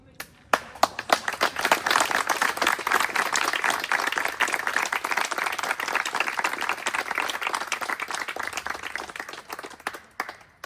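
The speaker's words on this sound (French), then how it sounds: "permettez-moi, pour ma dernière journée de travail ici, de vous applaudir" Sustained applause from a gathered workplace audience at a farewell speech on someone's last day, dense clapping lasting about ten seconds before tapering off, with a few voices faintly underneath.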